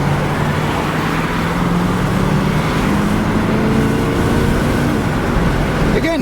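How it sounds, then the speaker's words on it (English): A 1977 Chevrolet Monte Carlo Landau accelerates from inside the cabin, its engine note climbing steadily under a loud, constant roar of road and wind noise that fills the whole stretch. "So watch this acceleration so you don't think I'm full of crap."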